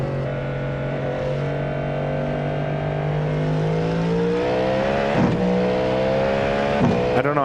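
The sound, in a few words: Cadillac GTP V8 engine revving in iRacing video game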